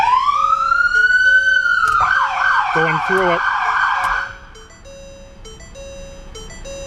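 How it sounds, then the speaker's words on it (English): Loud emergency siren on the Squad 171 vehicle, a rising wail that sweeps upward, then breaks into quick yelping pulses before cutting off, leaving a repeating electronic tone; someone speaks briefly over it. "and we use the siren,"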